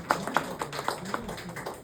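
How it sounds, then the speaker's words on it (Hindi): Seated audience at a World Hindi Day gathering in Toronto clapping, a short burst of scattered, fairly faint hand claps with irregular rhythm. "पहले तो आप सब लोग अपने लिए ताली बजाइए"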